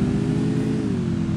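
A motorcycle engine revving steadily in a mobile battle-royale game, a loud, close, continuous drone holding one pitch and dipping slightly near the end.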